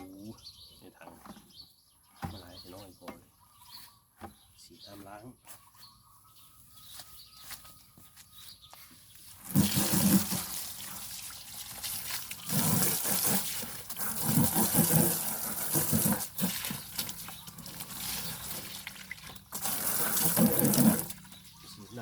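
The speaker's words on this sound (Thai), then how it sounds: "เริ่มเทน้ำทิ้งนะครับ" After quiet moments with faint birds chirping, water gushes and splashes out loudly in uneven surges as it is poured out of a koi pond filter tank, pouring for over ten seconds.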